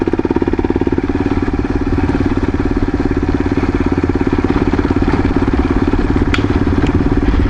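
An old Yamaha XT motorcycle engine putters along steadily on a road, a close, continuous low thumping drone with a fast even pulse and no talk over it.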